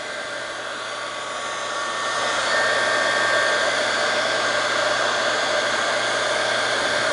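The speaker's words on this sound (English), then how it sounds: "So what I want to do is apply a little bit of heat from a heat gun." A heat gun blows hot air onto frame wrap, a steady close whooshing hiss with a faint motor whine that grows slightly louder partway through and then holds constant.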